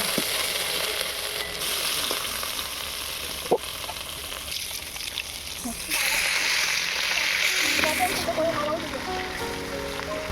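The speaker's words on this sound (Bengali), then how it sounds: "আবারও আমি বাকি মাছগুলো ভেজে নেব।" Pieces of rohu fish fry in hot oil in a home kitchen for a Bengali fish curry, a loud steady sizzle and spatter with stirring and clatter, rising sharply partway through while someone talks.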